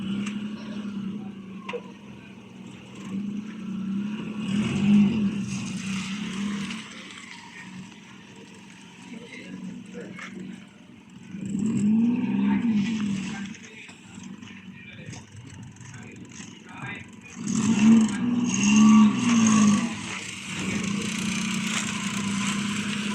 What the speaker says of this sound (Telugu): ఇంజన్ సౌండ్ కూడా చూడండి, ఇంజన్ కూడా ఏం నాయిస్ లేదు.